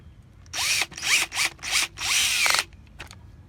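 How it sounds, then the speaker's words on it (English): A power drill with a screwdriver bit whirs in five short bursts, each winding up and stopping, tightening bolts around a saltwater pool, close by with no talking. "I just use a power drill like this."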